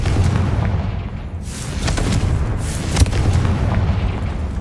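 A Confringo explosive spell blast in Hogwarts Legacy booms heavily, a dense low rumbling burst sustained for several seconds, with a sharper crack near the end, loud and close over the game's ambient sound.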